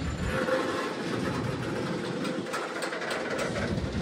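The Gumarang passenger train, hauled by CC 206 1372 locomotive on an afternoon run, rumbles along steadily, with a continuous rolling wheel and carriage roar close at hand.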